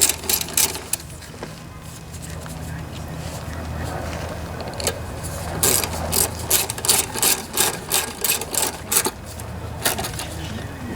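A ratchet snugs down the carburetor bolts on a Briggs and Stratton lawnmower engine, with bursts of close, crisp clicking against a steady background hum, the clicking strongest toward the end.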